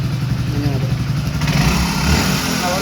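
A Hero Splendor B6 motorcycle engine runs close by with a steady mid-pitched thrum that rises slightly as it revs, while someone talks over it.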